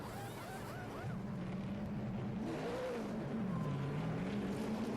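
A NASCAR Craftsman Truck Series race truck pulls away from pit road at a 2008 race, its engine note rising and falling steadily amid continuous track noise, with another engine whining faintly early on.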